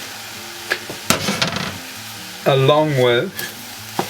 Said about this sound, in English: now we're going to return our beef mince to the pan with the vegetables